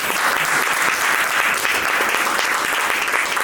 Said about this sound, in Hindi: हमारी मैम के लिए एक जोरदार ताली।